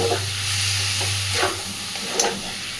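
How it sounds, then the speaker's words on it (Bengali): Small pieces of fat and potatoes stir-fried together in a pan for ghugni, giving a steady close sizzle with a low hum and a few soft scraping stirs. "তো চর্বিটাকে দিয়ে আলুর সাথে খুব সুন্দর করে কষিয়ে নেব।"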